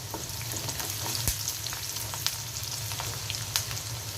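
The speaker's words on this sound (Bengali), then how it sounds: "পেঁয়াজ আর রসুন দিয়ে দিয়েছি তেলের মধ্যে। নিরামিষের মধ্যে পাঁচফোড়ন দিয়ে দিচ্ছি।" Onion and garlic frying in oil with panch phoron for a mixed vegetable dish, a steady close sizzle with scattered pops and crackles, no speech.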